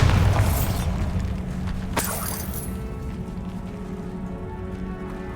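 A Bombarda blasting spell explodes in Hogwarts Legacy, a sharp crack landing over a dense rumbling game backdrop, with a deep boom at the start and steady low ambience afterward.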